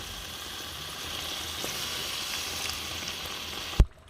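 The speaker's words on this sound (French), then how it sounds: "j'ajoute un quart de litre d'eau" A quarter litre of water added to a simmering kidney, spinach and tomato stew in a pot, making a steady close sizzle and bubble that ends with a single sharp knock.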